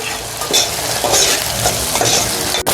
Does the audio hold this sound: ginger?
yes